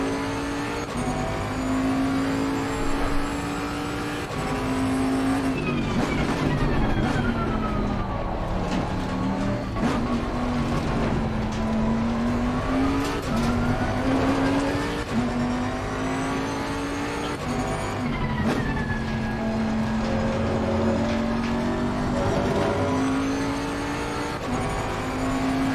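An F1 race car in a racing video game screams through a lap, its high engine note rising and falling steadily through gear changes, loud and continuous without talk.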